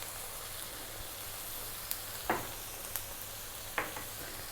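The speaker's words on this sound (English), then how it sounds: "we're going to now drop in the garlic ginger paste, 2 tablespoons of a garlic ginger paste" Two tablespoons of garlic ginger paste sizzle in a pan for a Bengali carp masala, a low, even hiss broken by a few small crackles and taps, with no voices.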